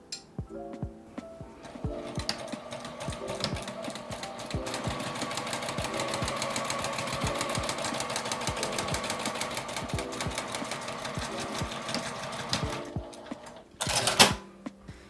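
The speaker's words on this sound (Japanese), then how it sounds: "表面同士を合わせて1センチの縫い代で縫います。" A sewing machine stitches patterned fabric pieces, right sides together with a 1 cm seam allowance, for a tissue case: a steady, close, fast mechanical whir that runs for about ten seconds after a short start and ends with a brief pause.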